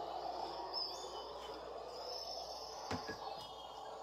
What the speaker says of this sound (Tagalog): Natural sound. Para siyang totoo talaga yung ano. Huni ng mga ibon.